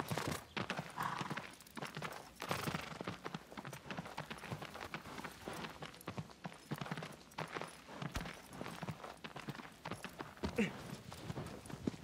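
A horse gallops in the video game Shadow of the Colossus, with rapid, continuous hoofbeats drumming in a steady rhythm throughout, fairly close and loud, joined by occasional faint voice and game sounds.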